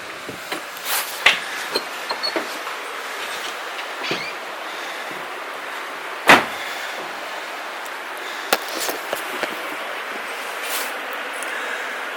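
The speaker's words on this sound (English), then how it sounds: "That's the sound of the river." Steady broadband rush of a river flowing near a log cabin in Vermont, a constant mid-level wash of water with occasional sharp clicks and knocks scattered over it, no voices.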